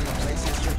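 A shotgun blast in Rainbow Six Siege, loud and dense, with rapid gunfire-like crackle filling the whole short burst.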